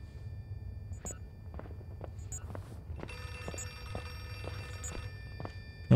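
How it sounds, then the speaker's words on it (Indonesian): In the horror game Outlast 2, a telephone bell rings in repeated bursts over a quiet dark-room hum, clicking steps tapping beneath it, ending with an abrupt loud thump. "Telepon kan?"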